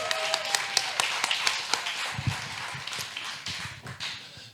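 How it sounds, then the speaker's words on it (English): Scattered clapping from a modest audience at a crypto meetup in San Juan, with irregular, distinct hand claps rather than a dense roar, gradually thinning out by the end. "Let me get a round of applause, please."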